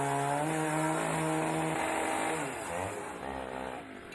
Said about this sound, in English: So I see you sawing this bar off here.